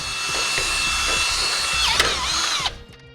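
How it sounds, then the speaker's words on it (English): A power drill with a 7/16-inch bit whirs steadily for a few seconds, grinding through a vehicle's hitch attachment hole to clean it out, then winds down and stops. "I'm just going to take my 7/16 drill bit and run it through there to clean it out"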